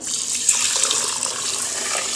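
Rice being rinsed with water in a pot while preparing pitha: a steady close hiss of running, splashing water, continuous and fairly loud with small sloshing bursts and no talk.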